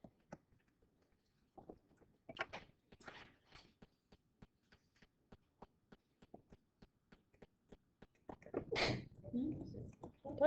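A single sharp sneeze breaks out in a classroom during a statistics lecture, after a stretch of quiet, regularly spaced faint ticks, and is followed by brief rustling.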